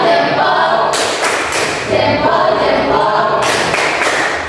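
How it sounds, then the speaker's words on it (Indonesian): Classroom audience applause, a dense burst of clapping filling the room in two loud waves, close and steady, with no clear talk over it. "Tepuk tangan untuk Rensya."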